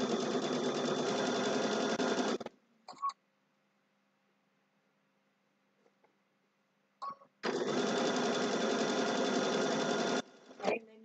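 A sewing machine stitches a fabric shopping bag with a pocket, running in two long steady whirring bursts with a quiet pause between them and a brief clack at the end, close and loud.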